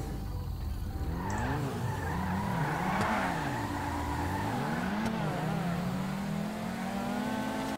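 A car in the video game GTA drives and revs hard, its engine pitch swinging up and down in waves over a continuous tire skid. The sound is steady and fairly loud throughout.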